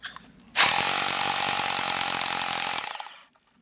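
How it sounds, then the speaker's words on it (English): A loud Vevor SDS rotary hammer drill roars continuously for about three seconds, a harsh rapid hammering buzz up close, then winds down and stops. "you turn it and it drills through like one of the old star drills"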